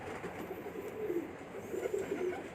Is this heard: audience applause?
no